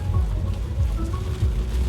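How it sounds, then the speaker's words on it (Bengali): Heavy rain pouring down just after leaving a highway in America during an Eid barbecue outing: a continuous wash of rain with a deep, pulsing low rumble beneath it, and no voices. "অঝরে বৃষ্টি শুরু হয়ে গেল"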